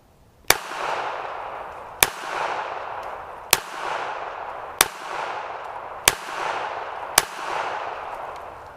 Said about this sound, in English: We're going to go ahead and charge the pistol. And we're going to put 6 through it